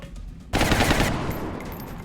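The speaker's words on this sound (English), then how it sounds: "So we'll throw a suppression up on this guy. Suppressing." Machine gun fire lays down suppression in the tactical strategy game XCOM Long War, erupting suddenly after a quiet moment as a loud rapid burst that trails off into a rumbling tail.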